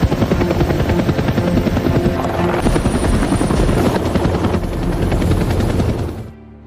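A Russian military helicopter's rotor thumps steadily and loudly with a whining engine in a film scene, then the sound cuts off abruptly near the end.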